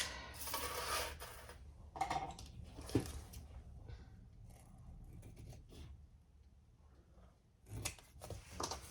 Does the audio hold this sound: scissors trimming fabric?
yes